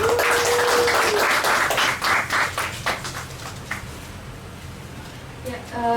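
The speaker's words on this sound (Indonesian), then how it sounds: "Tepuk tangan buat Atika." Audience applause welcoming presenter Atika at a launch event, dense and full at first, then thinning and fading as a voice speaks at the start and end.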